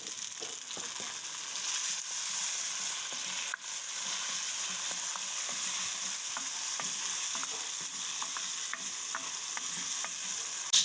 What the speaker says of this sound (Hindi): अब हम इसमें टमाटर और हरी मिर्च शामिल कर देते हैं।